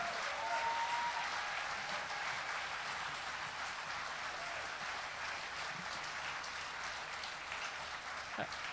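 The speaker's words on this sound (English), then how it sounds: "Big round of applause there" Faint, distant audience applause at a folk festival, steady clapping throughout at low level after a performance.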